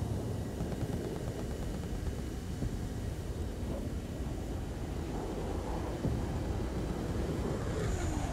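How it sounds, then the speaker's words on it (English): Jet aircraft engine roar in a combat flight video game, a steady broadband rumble with wind-like noise holding at a constant level throughout, no voices. "I hear another jet."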